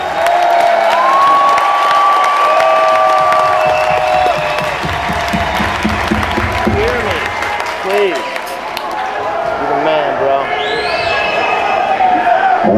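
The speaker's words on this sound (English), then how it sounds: "Why don't you give yourself a round of applause" A large crowd at a metal concert in an arena applauds and cheers loudly and continuously, with shouting voices and yells mixed through the roar.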